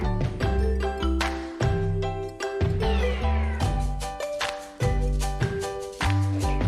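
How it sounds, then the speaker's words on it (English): A cat meows repeatedly in a children's alphabet phonics song, its loud, clear cries mixed with the backing music and percussion. "C for cat."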